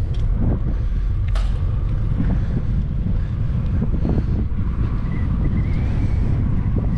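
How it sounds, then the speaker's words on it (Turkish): Strong wind on the Marmara coast buffets the microphone in a continuous low roar with gusty thumps throughout, no one speaking. "Bayağı bir rüzgar da var."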